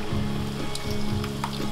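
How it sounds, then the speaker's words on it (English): Olive oil poured into a pot of boiling water, giving a steady bubbling sizzle with soft crackles close by and no talking. "I have 4 cups of water that is boiling. I'm gonna add 4 tablespoons of olive oil"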